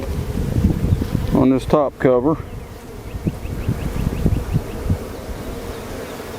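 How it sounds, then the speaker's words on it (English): A dense, steady hum of buzzing honey bees from an opened hive fills the air, briefly interrupted by someone speaking close by, then continuing with wind rustle. "we got a bunch of bees"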